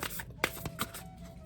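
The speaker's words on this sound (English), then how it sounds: "these cards were already pre-shuffled, but I'm shuffling them again." A deck of cards being shuffled by hand, with quick riffling bursts and soft slaps repeating close up over a faint steady hum, no voice.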